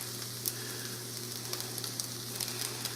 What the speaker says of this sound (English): I'm going to stir these together